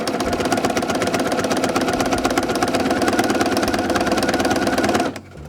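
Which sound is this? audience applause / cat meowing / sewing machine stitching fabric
sewing machine stitching fabric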